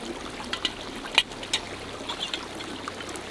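Water trickles and splashes at a mountain stream by a campsite in Norway as a container is filled, with a few brief splashy bursts over a steady soft babble; no one talks.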